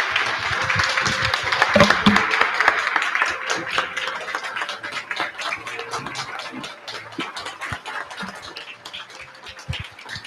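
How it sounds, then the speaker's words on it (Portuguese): A crowd applauds a friend being honoured at a gathering, a dense burst of many hands clapping that peaks early, then thins and tapers off over about ten seconds, with scattered claps near the end. "Nós queremos dar uma salva de palmas ao nosso amigo."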